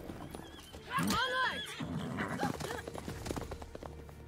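Horses in The Witcher 3: Blood and Wine give a loud, rising whinny near the start, then hooves clip-clop steadily underneath as a voice shouts a command and game sounds continue.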